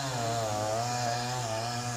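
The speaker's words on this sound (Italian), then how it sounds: "quello che sentite è il rumore di una motosega" Workers cut down a tree with a chainsaw on a city street in via Tonso, Alessandria, its engine droning steadily and loudly throughout.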